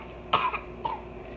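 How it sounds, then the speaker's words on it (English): Two short, dry coughs close by, a sharp first burst followed by a softer second one about half a second later, over quiet room tone with no speech. "There goes my next cough."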